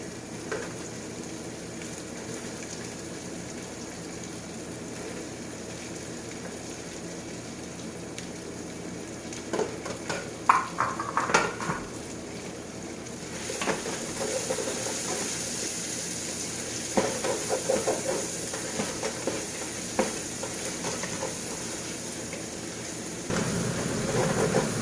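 Onions sizzle in a pan with garlic and ginger while cooking ginataang laing, a steady soft frying hiss with occasional stirring clatter, louder in the second half.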